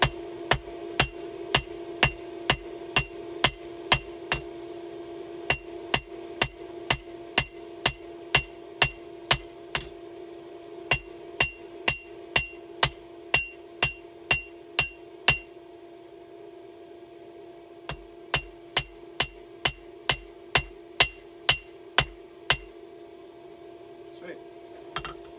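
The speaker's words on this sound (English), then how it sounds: "So I'm going to hold it at a slight angle, and then I'm hammering at an angle." Blacksmith's hammer beveling a forged knife blade, ringing metallic strikes in a steady rhythm, dozens of sharp blows in two runs with a short pause between, over a constant background hum.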